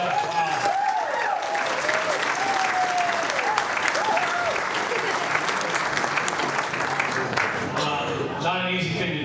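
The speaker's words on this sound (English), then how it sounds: "How about a round of applause for Alicia?" Mourners at a celebration-of-life memorial gathering applaud warmly in a full, steady wave lasting several seconds, with a few voices calling out over the clapping early on and a change of sound near the end.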